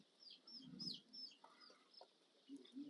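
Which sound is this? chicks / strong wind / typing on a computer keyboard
chicks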